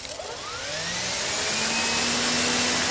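An EGO cordless pressure washer with a turbo nozzle sprays water in a loud, dense hiss that builds over the first second and holds steady, with a faint motor whir underneath.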